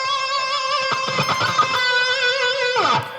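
A guitar plays an octave phrase lick, with clear sustained notes, a quick run of picked notes in the middle and a sliding note at the end, loud and alone with no talking.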